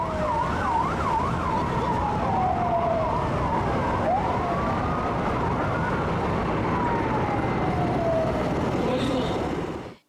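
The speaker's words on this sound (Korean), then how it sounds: "여러분, 이런 사이렌 소리를 들어본 적이 있나요?" An emergency vehicle siren wails loudly and continuously, sweeping up and down in pitch with a quick yelping warble near the start and long rising and falling tones afterward.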